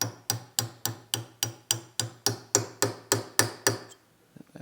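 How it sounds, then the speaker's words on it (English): A hammer strikes a punch to seat a rivet on a Hobart A200 mixer, giving about fourteen sharp metallic taps in an even, quickening rhythm, close and clear, then the tapping stops. "we punched it in right there with that punch"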